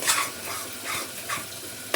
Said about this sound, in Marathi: तिकडे माझं वाटण परतलंय मस्त बघा